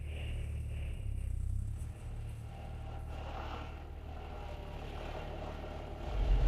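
A classic car rumbles along the road, its low engine drone steady and moderately close, dipping briefly before swelling louder at the end.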